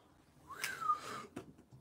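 A single rising whistle, fairly quiet and close, sliding upward then stopping, followed by a short breathy burst, with no talking.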